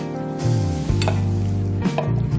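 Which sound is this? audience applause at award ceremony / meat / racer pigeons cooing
meat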